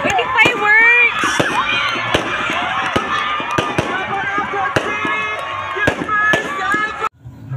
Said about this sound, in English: Cute! With the fireworks!